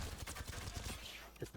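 Rapid bursts of automatic weapon fire with recoil in the Apex Legends video game, a dense rattling fusillade followed by a couple of separate thuds near the end.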